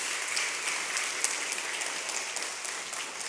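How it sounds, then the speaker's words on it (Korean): A Korean church congregation gives welcoming applause, a dense, even roar of many hands clapping at moderate distance, sustained without pause. "일어서시면 환영의 박수 드리겠습니다"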